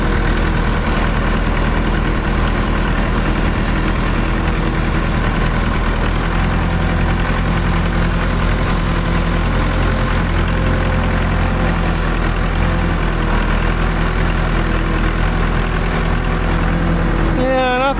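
A tracked snow vehicle's engine idles and runs with a constant, loud, vibrating drone close by, while someone talks throughout over it.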